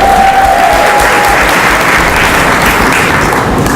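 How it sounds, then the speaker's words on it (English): Loud, dense applause from a rally crowd welcoming guests at an election event, steady and sustained throughout without a break. "Give them all a big round of applause"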